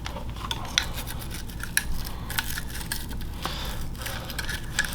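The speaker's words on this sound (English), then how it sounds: "just generally kind of scrub against the walls in there" A brush scrubbing inside the chamber of an AR-15 rifle during cleaning, giving a continuous close scratchy bristle rasp with a few sharper clicks.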